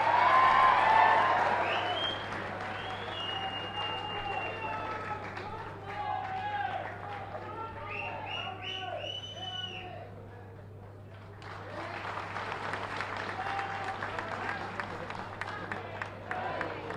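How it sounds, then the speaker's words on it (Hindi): Applause from an audience at a BJP political rally in India, welcoming a guest to the stage: sustained clapping and crowd noise swelling, easing around the middle, then rising again toward the end. "आप तालियां बजाकर स्वागत।"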